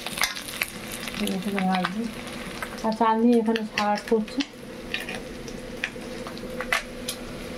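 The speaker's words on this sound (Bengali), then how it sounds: "এখানে মাছের ডিমগুলো আমি তেলে ফেলে ভাজছি" Fish roe fries in hot oil in a pan, giving a close, crackling sizzle with stirring and utensil clatter while someone talks over it.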